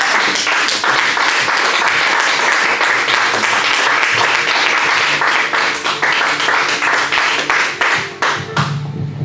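Church congregation applauding for the Lord, loud dense clapping from many hands that continues steadily before thinning out toward the end, with no talking over it.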